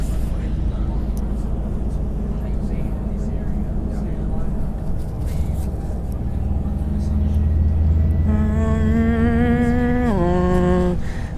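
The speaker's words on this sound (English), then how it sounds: "Literally tons of buses. There it goes." Transperth buses pass at Cannington station, a continuous rumble of idling and moving engines with a rising and falling whine near the end as a bus pulls through, with traffic nearby.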